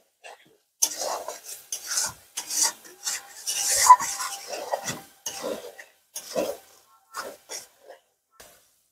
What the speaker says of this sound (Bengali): এবার মশলাগুলো ভালো করে কষে নেব।